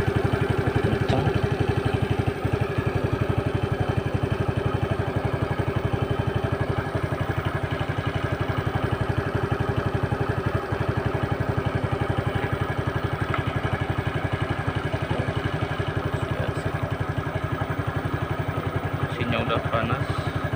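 A warm fuel-injected motorcycle engine idles at low revs with a steady, rapid, even putter, close and continuous throughout.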